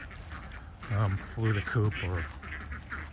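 Wild ducks quack on a pond: a handful of short, nasal calls in a quick cluster near the middle, mixed in with a person talking.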